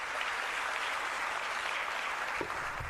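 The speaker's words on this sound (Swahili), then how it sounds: "A hand of applause." An audience at a summit applauds a World Bank country director, a steady wash of clapping held at moderate distance for the whole stretch, with a few faint low knocks near the end.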